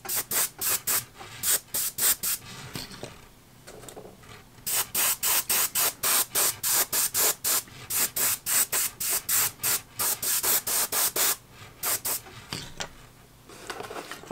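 An airbrush sprays paint onto the legs of 28mm Napoleonic miniature horses in rapid, rhythmic bursts of hissing air, short on-off pulses repeating steadily, close and clear with no talking.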